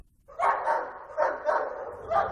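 Police cadaver dogs searching a remote farm in Tiffin, Iowa, giving three close, loud barks spaced about a second apart.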